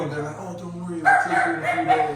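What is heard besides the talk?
dog barking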